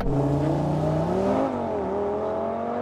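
An Audi RS3 accelerates hard in a drag race, a steady engine drone with rising and shifting tones, loud and close, continuous for about three seconds with no talk.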